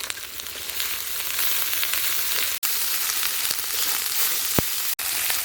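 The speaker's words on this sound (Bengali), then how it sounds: "মশলাটা ভালো করে কষে নিয়েছি" Turmeric and ginger paste with spices fry hard in a pan for a village-style fish curry, giving a loud, dense, continuous sizzle with a couple of sharp clicks and no talk.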